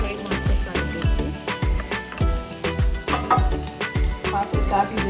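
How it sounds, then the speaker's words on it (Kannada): Cinnamon, cloves, ginger and garlic fry in oil in a pan for mutton kheema gravy, giving a loud close sizzle with rhythmic stirring scrapes and clanks of a spoon against the vessel. "ಚಕ್ಕೆ, ಲವಂಗ, ಶುಂಠಿ ಬೆಳ್ಳುಳ್ಳಿ ಹಾಕಿ ಗೋಲ್ಡನ್ ಫ್ರೈ ಬರುವವರೆಗೂ ಫ್ರೈ ಮಾಡ್ಕೊತಾ ಇರಬೇಕು."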